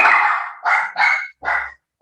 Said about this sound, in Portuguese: Cachorros na rua.